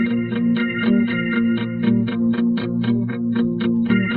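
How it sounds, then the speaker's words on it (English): A doubled, layered guitar part from a late-80s gothic post-punk song plays fast, evenly picked notes with a chorused, lightly overdriven sheen, sustained at a constant level and heard alone. "And that guitar is actually doubled and sounds like this."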